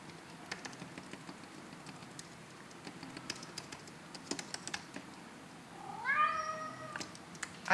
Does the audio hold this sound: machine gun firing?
no